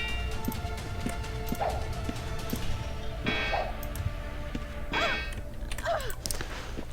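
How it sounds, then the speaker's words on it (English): A pack horse's hooves clip-clop steadily in a video game, with scattered chirps and tonal effects layered over a constant low background. "it's time to bring my pack horse through"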